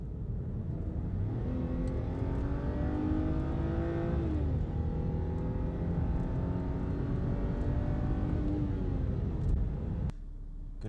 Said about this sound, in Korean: 엔진음 한번 들어보시죠